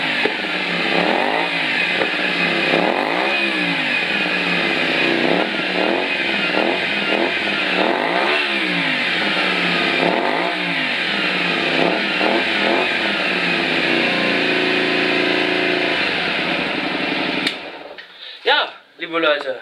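Honda Varadero XL 125 motorcycle fitted with a Leo Vince SBK Carbon exhaust, revved hard in repeated loud bursts close by, each rev rising and falling in steady rhythm, then the engine cuts off near the end.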